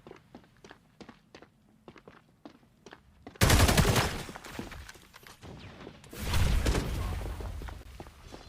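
Rapid hip-fire gunfire from a competitive first-person shooter match, starting with a run of sharp separate shots, then breaking into loud dense bursts of automatic fire that swell and fade.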